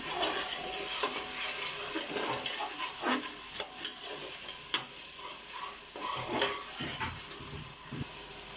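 Yogurt being stirred into frying masala in a pan, a steady close sizzle broken by periodic spoon scrapes and knocks, without any talking.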